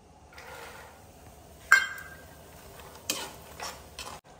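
Makhana (fox nuts) frying in ghee on low heat while festive barfi is made, heard as a faint sizzle broken by a sharp utensil clink and a few scraping stirs against the pan.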